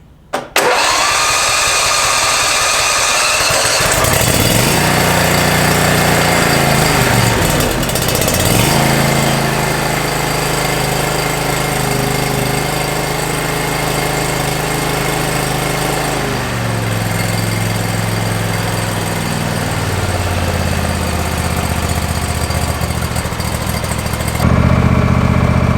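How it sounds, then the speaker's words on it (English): A Briggs & Stratton engine on a Simplicity Courier lawn tractor cranks briefly, catches and settles into a loud, steady idle close by, its pitch shifting slightly as throttle and choke change, running alone throughout. "As you can see, the Briggs & Stratton started up fairly easily."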